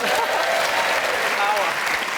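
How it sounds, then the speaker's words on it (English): Steady, loud applause from a live comedy show audience fills the room throughout, with a few whoops and voices rising above the dense clapping. "you get them to applaud"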